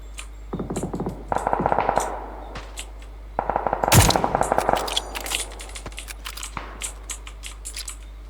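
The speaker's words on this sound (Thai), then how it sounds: "ก็ได้ยินเสียงปืนปล่ะ" Rapid bursts of automatic gunfire in the video game PUBG: Battlegrounds rattle in several volleys, with one heavier blast in the middle, then scattered single shots, all over a steady low hum.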